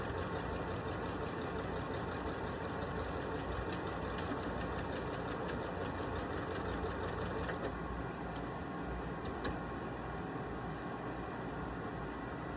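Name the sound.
sewing machine stitching a tote bag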